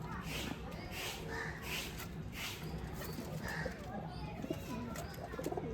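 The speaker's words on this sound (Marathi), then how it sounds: "बघा कबुतर पण आहेत वेगवेगळ्या जातीचे आहेत" Soft coos from pigeons of several breeds repeat in the background among a general wash of outdoor noise on a farm, with faint murmuring voices nearby.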